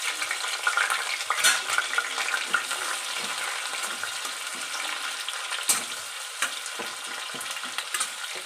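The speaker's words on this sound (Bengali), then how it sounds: "কালো জিরে ফোড়ন দিলাম, তারপর দেবো পেঁয়াজ, লঙ্কাটাও দিয়ে দেবো।" Onion and chilli fry in hot oil tempered with black cumin seeds, a continuous close crackle and hiss broken by scraping stir strokes, with no talk.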